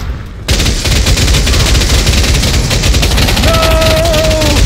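Loud, dense automatic gunfire from a gun in the VR shooter Pavlov VR rattles nonstop after a brief quiet start, with a faint tonal whine rising late under the shots.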